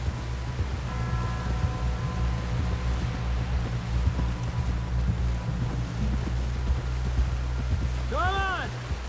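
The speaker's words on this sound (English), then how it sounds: "Someone help John down off this horse." Steady clip-clop of horse hooves in the video game Red Dead Redemption 2, ridden through a snowstorm under constant wind noise and a low rumble, with voices talking over it.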